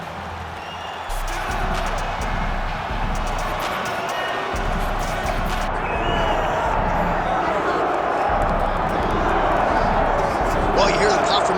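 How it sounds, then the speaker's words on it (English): Virtual arena crowd in EA Sports UFC 5 roaring as Nate Diaz walks out to face Gilbert Burns, a continuous dense cheer with scattered claps and whistles running under a commentator's voice. "you hear the pop from the crowd"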